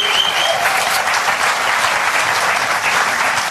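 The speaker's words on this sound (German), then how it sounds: "Applaus," A studio audience at a TV cooking show bursts into loud, dense applause, a close, continuous wall of clapping with a faint voice briefly over it at the start.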